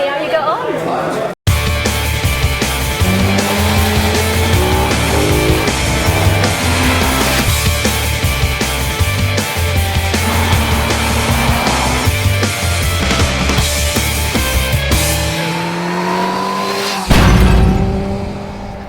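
Brand new KTM RC8R motorcycle in white and orange being ridden, engine note rising and falling through gear changes with rolling road noise, loud and close throughout, with a brief cut near the start.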